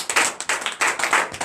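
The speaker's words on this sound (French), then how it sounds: "Donc je vous demande d'applaudir très fort." A congregation at morning prayer claps loudly in sharp, distinct bursts, a few hands striking in a quick, irregular rhythm close by.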